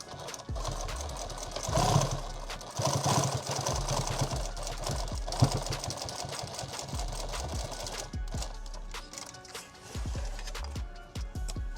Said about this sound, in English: do I want to sew this on and then close it, or close it and then sew it on?